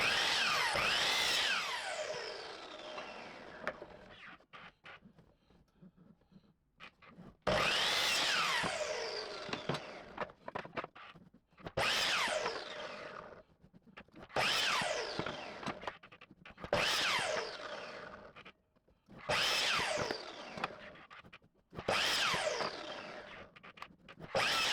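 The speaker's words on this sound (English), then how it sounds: "I decided to set my miter saw to 45 degrees using a speed square" A miter saw set to 45 degrees cuts miters in 11¾-inch boards from 2x4 lumber: six loud whining motor run-ups with bites into wood, separated by short quiet pauses.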